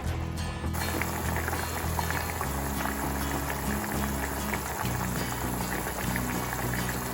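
Tomato sauce simmers and reduces in a pan, giving a continuous dense bubbling and sputtering with a low steady hum underneath, loud and close throughout.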